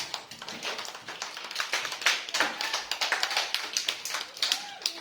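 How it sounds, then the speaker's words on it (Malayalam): Children applauding in an online class, steady irregular clapping from several small hands throughout, fairly close, with faint voices beneath. "കൈയടിക്കൂ കുഞ്ഞുങ്ങളെ"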